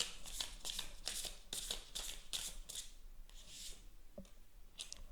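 A deck of tarot cards is shuffled by hand in a series of quick riffling bursts, followed by softer slides and taps as cards are drawn, close and quiet, with no talk.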